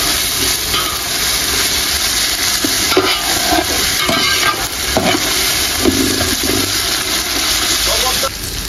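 Ginger, garlic and onion fry in a pan with a constant loud sizzle and hiss, while a utensil stirs and scrapes through them at intervals.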